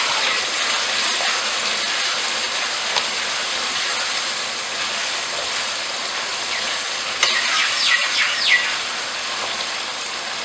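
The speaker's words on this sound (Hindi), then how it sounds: "हम इसको अच्छे से मिक्स कर देंगे।" Pumpkin with black pepper, cumin and nigella seeds being stirred in a hot pan, giving a steady soft sizzle with a few faint scrapes, alone and close.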